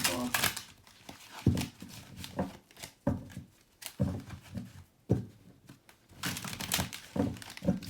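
A deck of tarot cards is shuffled quickly by hand, close-up bursts of papery riffling and soft thumps in an irregular rhythm.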